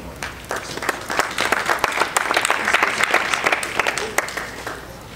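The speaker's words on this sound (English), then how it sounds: "give a big round of applause for none other than Nathan Cleverly" A press-conference crowd in Las Vegas bursts into steady applause for a boxer's introduction, dense overlapping claps with a few sharp louder hits, sustained for several seconds at moderate volume.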